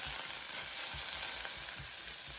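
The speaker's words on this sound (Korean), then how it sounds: "여기다가 다진 마늘, 다진 마늘 한 작은씩 정도하고 전복살을 같이 넣어서 먼저 볶아주세요" Abalone meat and minced garlic stir-frying in sesame oil in a heated pot, a soft steady sizzle with faint rhythmic scraping as the pieces are moved around, no voices.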